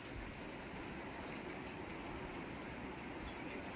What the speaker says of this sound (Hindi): अभी खूब बारिश हो रही है।